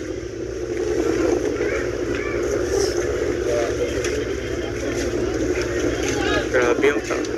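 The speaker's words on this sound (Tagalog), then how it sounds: "Grabe yung lakas ng hangin." Strong wind buffets the microphone outdoors at a height, a steady broadband roar with gusty rumble, while people talk over it throughout.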